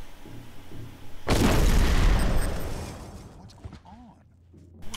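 A bomb goes off inside the Hitman: Blood Money level Curtains Down: a sudden loud boom erupts partway through, rolls into a long rumbling blast, then fades toward quieter game ambience with a faint voice near the end.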